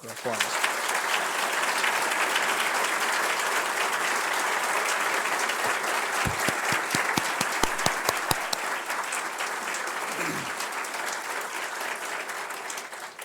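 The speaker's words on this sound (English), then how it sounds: "I'd like to ask you to join me in giving this entire group a well-deserved round of applause" Sustained applause from a gathered healthcare staff audience at an award celebration, dense clapping filling the room for over ten seconds, with a few sharper individual claps standing out midway before it tapers slightly.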